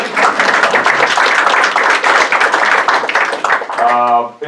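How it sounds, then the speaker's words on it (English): An audience at a village state-of-the-village meeting applauds, a dense, steady burst of many hands clapping that fills the room before fading into a spoken voice at the end. "you can literally applaud"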